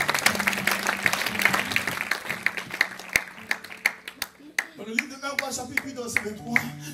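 A church congregation claps and applauds at a service, a burst of scattered claps that thins into separate hand claps, with a voice speaking over and after it.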